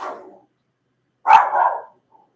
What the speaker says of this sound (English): My dog always barking every time.